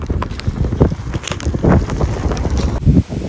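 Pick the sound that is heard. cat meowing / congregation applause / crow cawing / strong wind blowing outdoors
strong wind blowing outdoors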